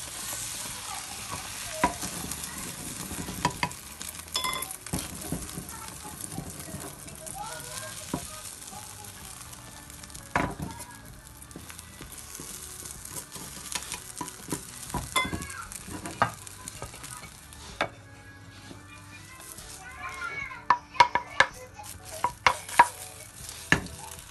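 Beaten eggs fry in hot oil for a thin French omelette, a soft sizzle broken by scraping and stirring clicks of a utensil in the pan.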